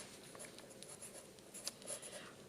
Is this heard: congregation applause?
no